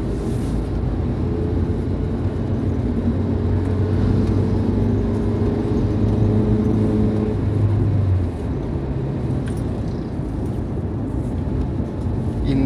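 An NPM bus on the Trans Palembang–Betung highway, heard as a steady loud engine drone and road rumble that carries on throughout, easing slightly partway through, with no talk.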